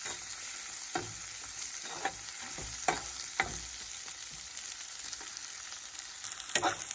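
Chutney ingredients fry in a pan with a steady, soft sizzle while a utensil stirs them, adding a few scraping clicks at irregular intervals. The hiss stays close and moderately quiet throughout, with no talking.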